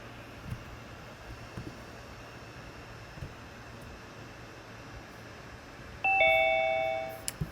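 A Zoom waiting room doorbell chime plays one clear ding-dong near the end, loud and close over a quiet room hum.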